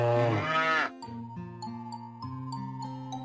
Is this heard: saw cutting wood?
no